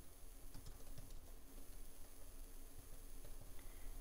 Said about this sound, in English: type anything what you want.